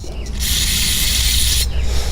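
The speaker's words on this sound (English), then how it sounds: "I tried to spray carb cleaner into." A short, loud hissing spray of carburetor cleaner blasts into the small ports of a carburetor, lasting just over a second with mechanical fumbling around it.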